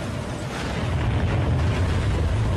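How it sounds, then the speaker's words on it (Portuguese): Sudden sinkhole collapse in Guatemala City in 2010, with falling masonry: a loud, deep, sustained rumble that swells and holds without a break, heard alone. "Um estrondo repentino, queda de alvenaria."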